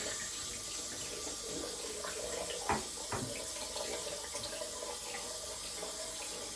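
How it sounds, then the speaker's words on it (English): Cold tap water runs in a steady, even hiss while a shaving brush is rinsed under it, with a couple of brief knocks partway through. "so now I'll rinse the brush out with cold water"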